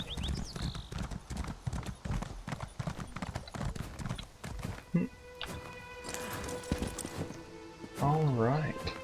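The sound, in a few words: horse hooves while riding in video game Elder Scrolls Online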